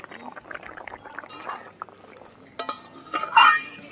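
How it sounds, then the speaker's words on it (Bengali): A metal lid clinks against a cooking pot as it is lifted off, with a burst of bright clatter near the end and soft bubbling from potatoes simmering inside. "এবার ঢাকনাটা খুলবো।"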